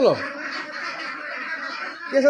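A flock of about 230 laying ducks on a duck farm quacks in a dense, steady chorus throughout, with a person talking over the flock.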